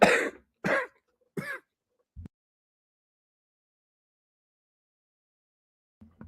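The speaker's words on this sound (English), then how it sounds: "Did you see my vein when I was coughing?" Three sharp coughs in quick succession, close and loud, followed by silence and a couple of faint soft bumps.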